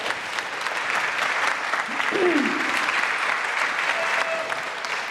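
Applause from a theatre audience at a season launch event at the Imperial Theatre, a steady broadband wash of many hands clapping throughout, fairly loud and continuous with faint crowd noise mixed in.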